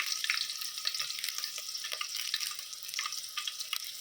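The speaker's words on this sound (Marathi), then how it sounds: "एकदम हिरव्या मिरच्या टाकायच्या. आणि मग तेजपान टाकू" Green chillies and a bay leaf hit hot oil in a pan for a spicy Savji-style goat head curry, giving a soft, steady crackling sizzle with faint pops, close and quiet with no talk.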